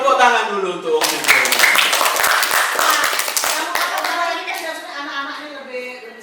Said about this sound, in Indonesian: Tepuk tangan dulu untuk Om Siswa.